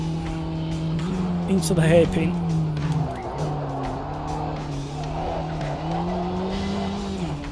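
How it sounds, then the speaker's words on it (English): A race car engine labours uphill with a steady, strained drone that dips briefly and then holds its pitch. It sounds loud and close, with a voice commentating over it. "You can hear the engine note labouring up the hill"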